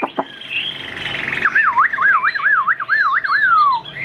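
A hwamei songbird sings up close, opening with sharp chirps, then looping into a clear, rapid warbling phrase of repeated rising and falling whistles.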